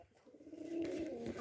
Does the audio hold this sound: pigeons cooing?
yes